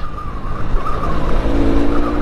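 A 2021 Benelli Leoncino 500 BS6 motorcycle ridden in fifth gear through city traffic: a steady engine drone mixed with rushing wind noise, with a faint tonal whine rising near the end.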